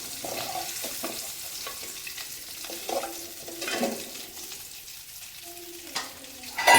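Dried fish fries in oil, a soft bubbling sizzle broken by intermittent clinks and scrapes of a utensil turning the pieces, fairly close and quiet.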